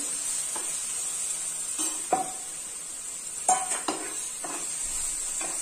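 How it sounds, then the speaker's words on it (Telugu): Flattened rice (poha) stirred into a pan with a spoon, soft scraping and a few sharp clinks against the metal over a faint steady hiss, close by with no voices. "ఇప్పుడు మనము రెడీ చేసి పెట్టుకున్నాం కదా అటుకుల్ని, వీటిని వేసి బాగా కలుపుకునేయాలి."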